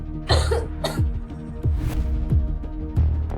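A woman with a cold coughs in several short, rough bursts spaced about half a second apart over a low steady hum, close and fairly loud.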